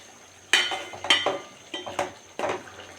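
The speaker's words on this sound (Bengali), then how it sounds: "নেড়ে চেড়ে ভালো করে মিক্স করে নিচ্ছে" Goat meat is stirred in a pot with a metal spoon, producing four or five distinct clinking scrapes in an uneven rhythm, close and moderately loud, with no talking.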